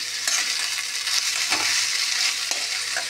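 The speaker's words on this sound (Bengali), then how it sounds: "এবার এটা ভালোভাবে মিক্স করে নিই।" Food being stirred and mixed in a frying pan with turmeric, a steady sizzling hiss under close, irregular scraping strokes of the spoon against the pan, with no one talking.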